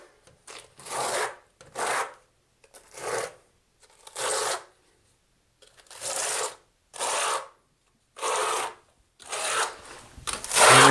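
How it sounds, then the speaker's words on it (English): A 1/4 by 3/8 inch notched trowel spreads thinset over a tile membrane on a floor. It makes about nine loud, close scraping strokes separated by short pauses, with no talk. "When you're filling in this membrane, you sometimes got to work different angles at different directions in order to get it filled up."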